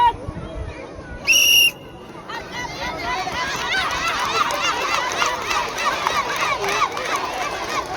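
A single loud, short referee whistle blast rings out at a school sports day at Govt LP School Parambilpeedika, followed by the steady noisy chatter and shouting of a crowd of children.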